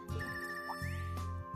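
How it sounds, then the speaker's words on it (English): Phone ringtone from the video game Trails of Cold Steel III, a bright electronic melody of chiming tones that rings steadily and clearly throughout, with no voices over it. "I like that ringtone."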